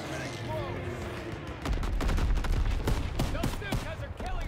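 Battlefield gunfire in Call of Duty WWII near a German flak gun. Quieter background fire gives way to a loud, dense run of booming shots and bursts, with voices talking over it.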